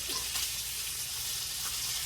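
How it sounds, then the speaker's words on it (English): Six slices of bacon sizzle and crackle steadily in a frying pan, a soft continuous hiss with faint pops, no talking. "You can hear in the background here probably I'm frying up 6 slices of bacon"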